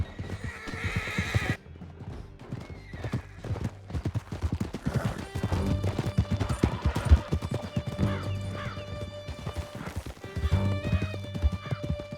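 Galloping horse in Red Dead Redemption 2, with steady rapid hoofbeats pounding close and loud, a whinny near the start, and the rhythm carrying on for the whole stretch.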